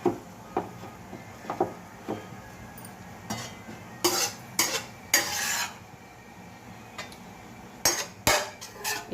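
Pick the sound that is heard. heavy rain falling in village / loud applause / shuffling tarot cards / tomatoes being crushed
tomatoes being crushed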